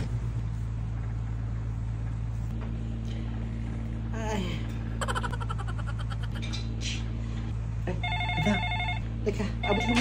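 A cellphone in a mansion gives an electronic ringtone of beeping, repeating tones, starting faintly and growing more insistent, over a steady low hum and some speech.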